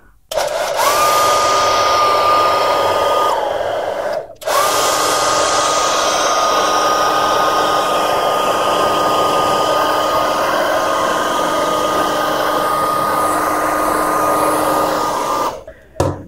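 An electric air blower roars steadily while blowing dust out of a desktop PC, a loud close whine that cuts out briefly once partway through, then resumes and stops at the end, with no talking.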